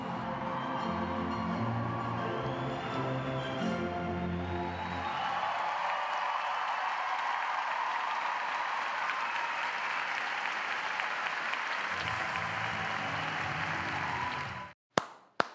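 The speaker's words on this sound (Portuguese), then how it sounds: "Aplausos lá e aplausos aqui, Maria." An audience applauds after a performance at a dance festival. Tonal music and voices open the passage before thick, sustained clapping takes over and continues until it cuts off abruptly.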